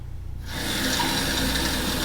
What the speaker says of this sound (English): I'm going to get the measurement of each bag and put the same amount of water of the bag